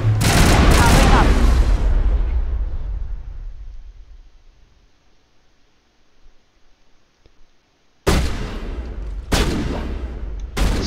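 Rapid bursts of gunfire from a Mass Effect firefight, loud and dense for about two seconds, fading into near silence, then two more sharp volleys near the end.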